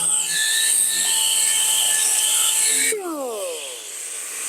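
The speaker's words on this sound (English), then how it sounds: "all this last bit of sanding is kind of surface prepping this for clear coat later." A power sander works over the bodywork of a D150 truck, a loud, steady high whine held close, then dropping in pitch as it spins down toward the end.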